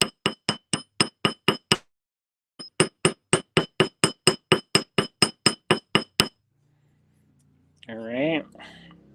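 Metal wire is hammered to texture it for a squiggle necklace: a fast, even run of sharp ringing hammer strikes on a steel block, a brief pause, then another steady series, followed by a short spoken phrase.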